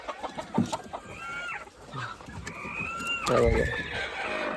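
Many native Khud country chickens cluck and squawk together on a farm at Shahapur, with a dense chorus of overlapping calls that swells toward the end.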